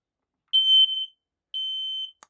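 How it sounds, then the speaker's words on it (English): A smoke alarm on a narrowboat sounds two loud, sustained electronic tones during a test, each lasting about half a second, separated by a short gap and ending in a brief click. "And I also need to check the smoke and carbon monoxide detectors."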